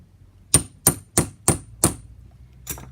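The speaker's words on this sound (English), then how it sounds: "to start the splash rivet, we're going to use just a punch, and we're just going to widen the rivet out" A metal punch strikes a solid brass splash rivet in five sharp, evenly spaced hammer blows, followed by a softer sixth tap after a short pause, each ringing briefly and close up.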